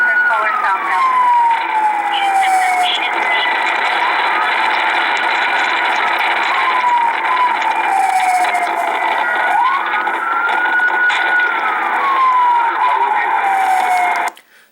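A police car siren wails loudly and continuously, rising and falling in long, slow sweeps over engine and road noise until it cuts off at the end.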